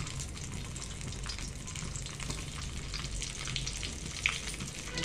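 Cumin and mustard seeds sizzling in hot oil in a pan, a soft, even frying hiss heard faintly and alone, with one small pop near the end.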